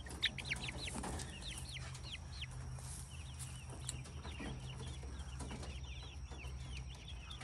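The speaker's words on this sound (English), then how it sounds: "Rhode Island Reds." Rhode Island Red chickens cluck repeatedly in short, overlapping calls over a steady low hum, with no one talking.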